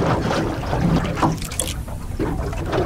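Wind blowing across a small fishing boat on an inshore calamari spot: rough, gusty rushing and buffeting close to the microphone, with faint water movement beneath and no voices.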